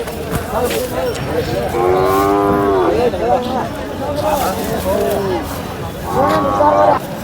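Bulls and cattle at the Sangola livestock market low in long, drawn-out moos, two or three loud calls rising above a busy background of crowd chatter and people talking.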